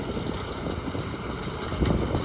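Wind buffets the microphone in an open rice paddy during a harvest in Korat, Thailand, a steady low rumbling roar that swells slightly near the end, with no other clear sounds.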